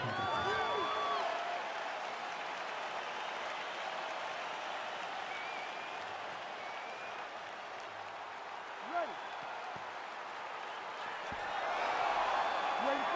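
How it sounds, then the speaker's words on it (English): Arena crowd in the EA Sports UFC 4 video game as a fight begins: a continuous wash of applause and cheering at moderate distance, swelling again near the end, with scattered whistles and a thump. "Crowd getting excited as this fight gets underway"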